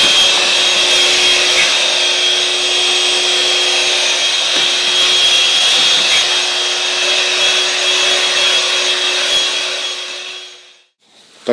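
A vacuum cleaner runs steadily while cleaning up, a loud continuous whooshing hum with a constant tone that holds for about ten seconds before the motor cuts off and spins down.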